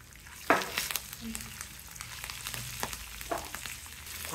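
Green chillies fry in hot tempering oil for tamarind rice, a soft crackling sizzle with a few sharp spatters and stirring scrapes, fairly quiet and close.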